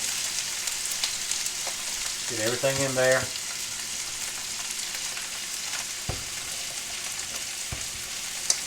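Tomatoes, peppers, onions and mushrooms sizzle steadily in an electric skillet, a continuous frying hiss running throughout with a brief clatter midway as more food goes in; a voice speaks briefly over it.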